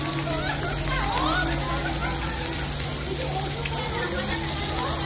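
Steady, dense hiss of heavy typhoon-season rain pouring down in Hong Kong, with a busy murmur of voices and activity mixed underneath throughout.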